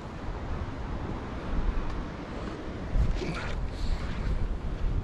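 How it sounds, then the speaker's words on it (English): Strong wind buffets the microphone in rough gusts, with a low roar and surges around the middle, with no one talking. "It's a long time since it's been as windy as this"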